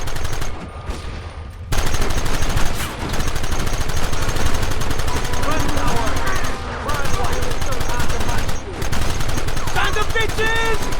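Rapid gunfire fills a Red Dead Redemption shootout, dense overlapping shots and bursts rattling almost without pause, with shouting voices mixed into the battle.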